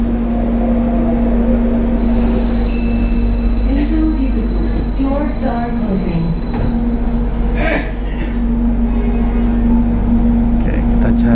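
Airport rail link train ride heard from the last carriage toward Soekarno-Hatta International Airport: steady rolling rumble with a long high wheel squeal and a strong electric hum, near and continuous, with faint talk underneath.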